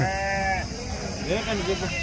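At a sheep market, sheep bleat in wavering, nasal calls, one early and another later, with farmyard voices and background noise underneath.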